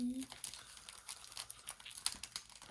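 Crinkling plastic and torn wrapping from a Pokémon 25th anniversary Ultimate collection box being opened, close and busy in short rustling bursts, with people talking over it.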